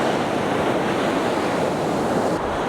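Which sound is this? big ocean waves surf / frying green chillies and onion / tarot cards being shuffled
big ocean waves surf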